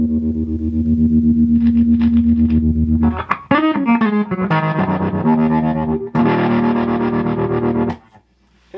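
Electric guitar played through a 1968 Fender Deluxe Reverb amp with a gritty, effected tone: sustained chords, then bent and wavering notes and strummed bursts, loud and close with no talking.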